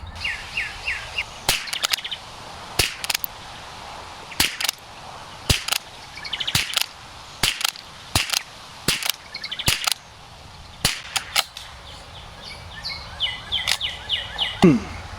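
Remington .22 target rifle rounds with 40 grain lead bullets, fired as about twenty sharp, close cracks at a steady unhurried pace outdoors, with birds chirping in the background.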